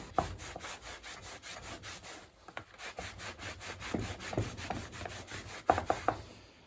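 Rubbing and wiping along the power cable of a Bosch Professional 9-inch angle grinder with a burnt cable, giving a steady scratchy friction with a few sharper knocks, close and moderately loud, with no talk.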